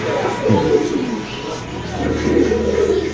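An Indonesian Spanish pigeon at a pigeon farm coos in low, throaty rolling bursts, close by, with people's voices mixed in the background.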